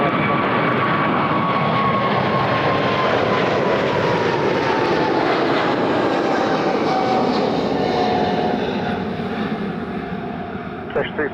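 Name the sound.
aircraft at Toronto Pearson airport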